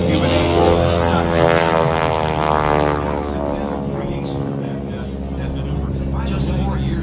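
A propeller airplane at an airshow drones overhead, a loud steady engine tone that bends in pitch as it passes, with an announcer talking over it.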